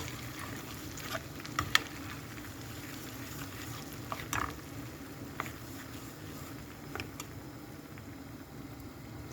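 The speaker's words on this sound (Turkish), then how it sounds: "Pilavım böyle kaynıyor" A pot of chickpea rice pilaf bubbles and sizzles quietly and steadily, with occasional small pops and clicks over a soft continuous simmer.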